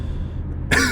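A single short cough close to the mic, with throat clearing, from a person with allergies, following a quiet pause.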